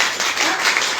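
An indoor audience at a corporate training program claps steadily, a dense wash of applause with no break.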